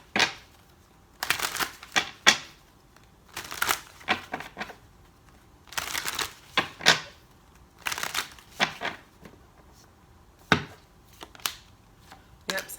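A deck of tarot cards is shuffled by hand. Crisp riffling bursts repeat every second or so, some longer and some short, close and moderately loud, with no talking.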